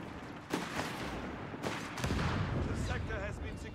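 Heavy machine gun fire in a wartime strategy video game, a dense rattling fusillade mixed with explosions and shouted voices under it, loud and continuous.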